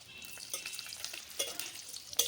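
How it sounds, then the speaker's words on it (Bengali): Dried red chillies fry in hot oil with a soft, steady sizzle and a few brief crackling bursts, close and alone with no talking. "এই তেলে ভেজে নিচ্ছি কয়েকটা শুকনো লঙ্কা"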